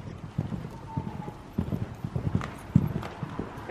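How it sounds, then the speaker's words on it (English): Horse hooves clip-clop across a riding ring in an uneven rhythm of dull, moderately close thuds, with a faint breathy background and no talk. "Canter poles on the far side of the ring, please, not beside me."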